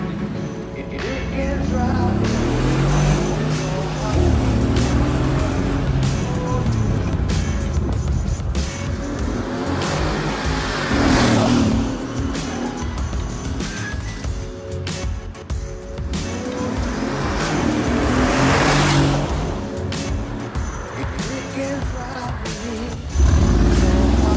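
A Mercedes G63 AMG's loud exhaust revs repeatedly, deep rumbling bursts rising in pitch, with crowd noise faintly in the background.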